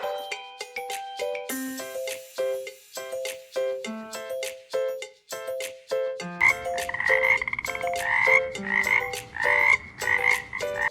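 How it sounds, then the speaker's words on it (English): Frog croaking in a kids' animal sounds game, repeated rhythmic croaks mixed over a bright, plinking musical backing, steady and fairly loud throughout. "Ribbit, ribbit, the frog is jumping."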